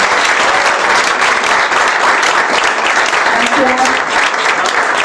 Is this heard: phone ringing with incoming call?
no